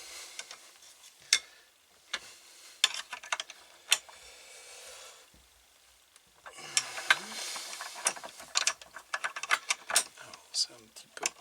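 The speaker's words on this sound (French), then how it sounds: "c'est un petit peu dur à serrer avec ce genre de clé" A 36 mm wrench turns the fork nut on a BMW R90S motorcycle, giving scattered metallic clicks and clinks of tool on metal, with someone speaking quietly at times.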